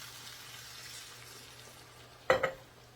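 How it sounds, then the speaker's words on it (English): Broth poured into a hot pan of flour mixture gives a short, sharp hiss and splash near the end, after quiet stirring. It is close and brief. "I'm going to take my broth and I'm going to put the whole thing in here"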